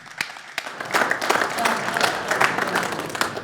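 Audience applause for fighters at a fight promotion press conference, scattered claps building into a dense crowd ovation, loud and sustained.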